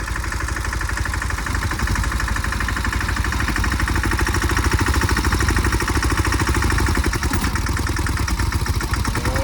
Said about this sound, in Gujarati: ટ્રેક્ટર બળ કરાવીને પછી ક્યાં આવવાનું છે.